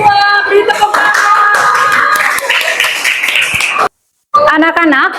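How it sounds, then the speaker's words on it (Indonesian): Schoolchildren in a classroom clap together, a loud, fast ragged patter of many small hands mixed with children's voices, breaking off briefly before resuming. "Beri tepuk tangan."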